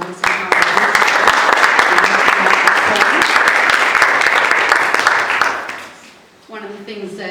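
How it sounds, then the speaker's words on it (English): A room at a PTSA meeting breaks into applause for Mrs. Howard, dense loud clapping that holds for several seconds then fades, followed by a voice speaking. "So if we could have another round of applause for Mrs."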